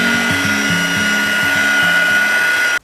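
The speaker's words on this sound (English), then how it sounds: "I'm now going to heat emboss the layered Poinsettia stamp." A heat gun melts gold embossing powder on a stamped layered poinsettia image, giving a loud, steady motorized whine and airy rush that runs unbroken before cutting off abruptly.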